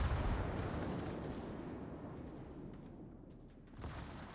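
A World of Warships vessel, the Jaeger, fires its main guns in a tournament match: one deep, rumbling salvo booms up and slowly decays over several seconds, fairly quiet and without talk.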